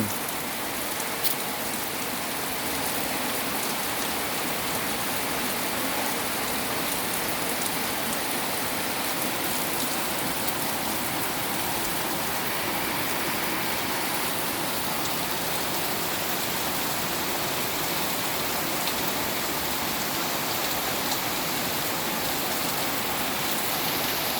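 Steady, even rain pours down for a long stretch, a dense hiss of drops on surfaces with no other sounds.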